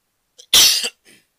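A single sharp cough, close and abrupt, with a faint breath just before and a short exhale after.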